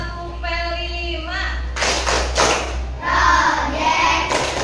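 A rhythmic clapping chant in an Indonesian primary school classroom: a sung teacher's call, then a cluster of loud, close claps in a quick pattern, with chanting voices over a steady low hum.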